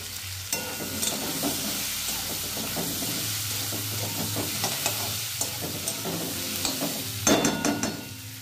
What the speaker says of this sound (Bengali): আলু পেঁয়াজটা ভেজে নিচ্ছি, এটা ঝোল করব